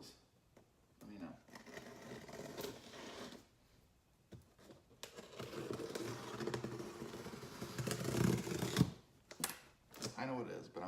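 A box holding a Q50 performance parts package is torn open, with close, crinkly rustling and scraping of cardboard and packing material in uneven bursts, someone speaking between them.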